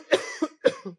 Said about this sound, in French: excuse-moi, je tousse